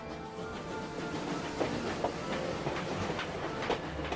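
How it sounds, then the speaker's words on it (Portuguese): A train rolls steadily along the rails, with rhythmic clickety-clack of wheels over joints and a continuous rumbling hum, heard fairly close. "Os trens precisam cruzar o país de norte a sul"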